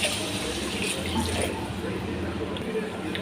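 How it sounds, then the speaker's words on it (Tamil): Water poured into a pan of simmering vada curry, a continuous splashing, trickling pour close by throughout. "இப்போ கொஞ்சம் தண்ணி சேர்த்துக்கலாங்க."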